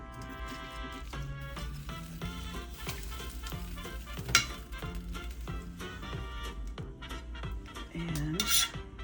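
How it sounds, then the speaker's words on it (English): Pork ribs returned to a pot with sauerkraut, sizzling steadily while metal utensils clink and scrape against the pot, with a sharper clatter midway and a louder burst near the end. "And now you're going to put your ribs back in here."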